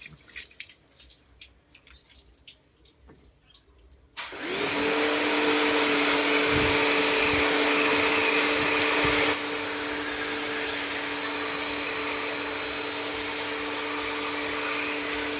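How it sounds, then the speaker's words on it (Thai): High-pressure water spray blasting dust out of a dismantled, heavily clogged air conditioner unit, a loud steady hiss and drone that starts abruptly after a few seconds of quieter background and continues without pause. "ฝุ่นตันเยอะเลยครับฝุ่น ก็ใช้ล้างอัดฉีดล้างเลยครับ"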